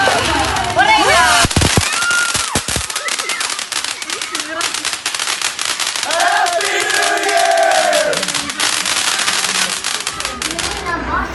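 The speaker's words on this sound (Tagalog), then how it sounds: "Ayan, panoorin po natin ang fireworks dito." Loud fireworks and firecrackers burst repeatedly in dense, crackling volleys close by, with a crowd shouting and cheering over the blasts throughout.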